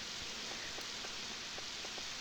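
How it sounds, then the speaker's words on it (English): Rain falls steadily in the Harvest Moon 64 video game, a constant soft hiss with faint scattered drop patters, quiet and even. "I really like watching the rain in this game."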